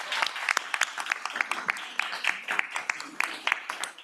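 Applause at a county commission meeting, a room of people clapping in a dense, steady patter that neither swells nor fades, with no voices over it.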